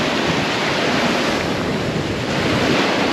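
Ocean surf breaking at Isla Verde beach in San Juan, Puerto Rico, a dense continuous roar of crashing water mixed with wind buffeting the microphone, loud and unbroken.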